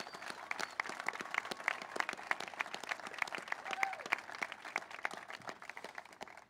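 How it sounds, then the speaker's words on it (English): Scattered audience applause at an arena groundbreaking ceremony: fairly faint, uneven clapping from a modest outdoor crowd with distinct individual claps, a light murmur of voices underneath. "Please give those courageous leaders a round of applause."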